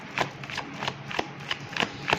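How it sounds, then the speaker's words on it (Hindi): A tarot deck shuffled by hand, giving a run of soft, papery riffling bursts at an uneven, steady pace, close and moderately quiet with no talking. "चलिए अब मैं कार्ड शफल करने जा रही हूँ और देखती हूँ कि क्या एनर्जी आ रही है।"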